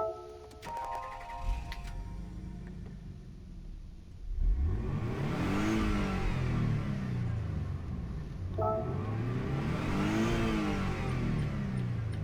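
A 1989 Nissan Fairlady Z 300ZX twin-turbo engine in the game Gran Turismo 7 cranks and catches, then revs twice in rising and falling sweeps, loud and close, with a few clicks at the start.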